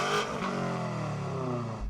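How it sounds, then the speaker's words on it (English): BMW M5 with an Akrapovic exhaust revving, a brief sustained engine roar with a slowly sliding pitch, fairly faint and heard alone. "Let's check out the sound of my weight-saving Akrapovic exhaust."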